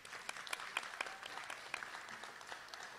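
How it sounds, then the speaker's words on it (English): Faint scattered clapping from a small audience, uneven and light, heard from a distance. "Again, a round of applause for our funders."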